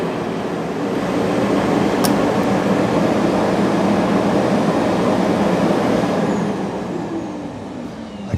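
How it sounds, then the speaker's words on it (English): A Dreame X30 Ultra robot vacuum dock auto-emptying its dustbin gives a steady, loud rushing suction roar close by. It holds at a constant level for several seconds, then tapers slightly near the end. "Start auto empty. Yeah. Yep, not super loud either."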